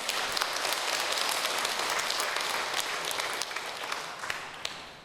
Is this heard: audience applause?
yes